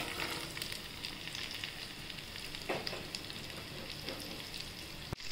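Chopped bitter gourd fries in hot oil with cumin seeds, a steady crackling sizzle up close with occasional stirring scrapes and a sharp knock near the end.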